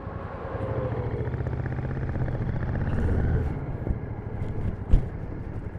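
Royal Enfield Shotgun 650 motorcycle on stock mufflers, a steady, low, throbbing twin-cylinder exhaust rumble heard while riding, with wind buffeting and a brief bump near the end.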